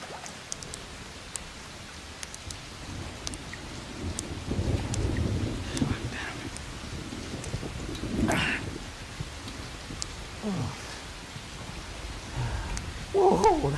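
Steady rain with rolling thunder, a mid-distance rumble swelling around the middle and again later, over constant patter and light wind, with no talking.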